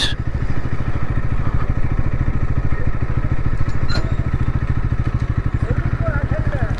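Motorcycle engine idles close by at the foot of Garhpanchkot, a fast, even low putter with a clattering texture running throughout, steady and fairly loud, with no talk over it.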